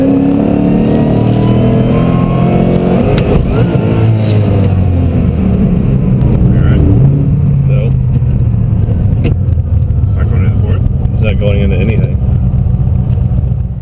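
A 2006 Mustang fitted with a new Centerforce DYAD dual-disc clutch accelerates hard, engine pitch climbing and shifting through gears in a loud, steady roar that fills the whole stretch.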